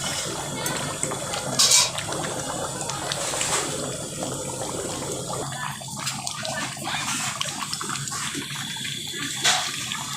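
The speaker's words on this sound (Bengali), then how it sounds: "দেখো বন্ধুরা, মাংসটা কি সুন্দর ফুটতে, দেখো টকবক করে।" Chicken curry boiling in a pot, a soft, continuous bubbling and simmering with a few light clinks of utensils, fairly quiet and close.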